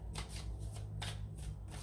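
Moonology oracle cards being shuffled by hand, a steady run of quick riffling bursts close up, soft papery flutters repeating with a faint low hum underneath and no talking.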